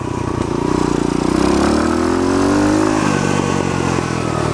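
A pit bike revs hard in an open parking lot, its engine loud and close, climbing in pitch to a buzzing peak and then easing back to a rougher idle.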